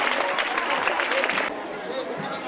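A quiz competition audience breaks into applause, a dense wash of clapping and murmuring voices that cuts off abruptly after about a second and a half, leaving quieter room noise.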